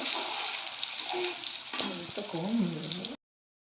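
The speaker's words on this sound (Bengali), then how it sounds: "একটু হালকা হালকা করেই ভাজবো" Paneer fries lightly in oil with a soft, steady sizzle, joined by brief stirring scrapes before it cuts off abruptly.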